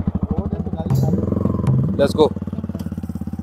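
Motorcycle engine running close by with a steady throbbing idle and a brief rev, while someone speaks over it.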